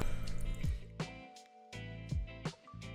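Water dripping into an already full cup, a series of distinct wet plinks and drips at an irregular, unhurried pace, close and clear with short quiet gaps between them.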